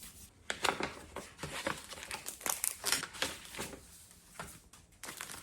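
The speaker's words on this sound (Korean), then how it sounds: "이 봉투는 이번에 유어마인드에서 산 책갈피인데요. 한번 뜯어볼게요." A paper envelope holding bookmarks is torn open by hand, giving close crinkling and ripping sounds in irregular bursts, fairly quiet and with no speech.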